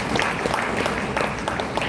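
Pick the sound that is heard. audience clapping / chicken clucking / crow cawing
audience clapping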